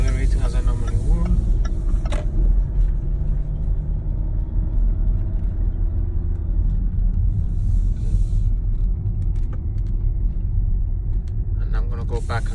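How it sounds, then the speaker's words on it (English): A car accelerating up a hill in city mode, its engine making a loud, steady low rumble from inside the cabin that swells gently through the climb, with no one talking. "I'm accelerating as I normally would."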